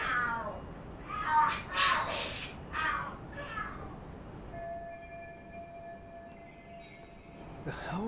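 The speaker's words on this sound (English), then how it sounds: "The hell, are there cats fighting?" Cats fight and screech in the Lost Judgment video game, a few loud yowling bursts over steady background ambience, followed by a quieter stretch with a faint tone, and no talk.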